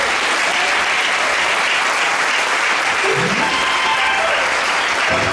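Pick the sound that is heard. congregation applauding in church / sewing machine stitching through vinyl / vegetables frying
congregation applauding in church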